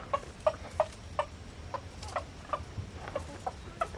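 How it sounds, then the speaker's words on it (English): Gray chickens on the far side of a fence cluck in a steady stream of soft, evenly spaced notes, moderately close, with no talking. "I see two of the gray chickens"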